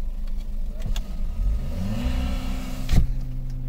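Hyundai Verna and VW Virtus launching side by side in a drag race, with close, loud engines revving and climbing in pitch and a sharp burst near the end.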